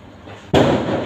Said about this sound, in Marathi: अशा प्रकारे हे बॉम्ब आहेत